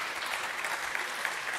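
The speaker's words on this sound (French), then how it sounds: "Vous pouvez les applaudir." Quiet, steady applause from an audience honouring speakers at a talk on circular economy and heritage building renovation, even clapping heard from a distance with a few sharper individual claps.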